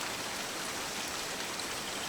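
Steady rain ambience from a video game's FMOD dynamic ambience system at high wind intensity, a dense, even hiss of heavy rainfall filling the whole range without pauses.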